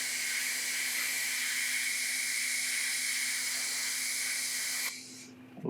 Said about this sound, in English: semi-transparent white, back in the airbrush